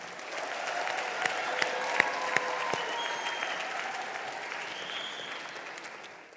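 Graduates at a university commencement ceremony burst into steady, broad applause from a large crowd, a dense wash of clapping lasting throughout with a few sharper claps standing out.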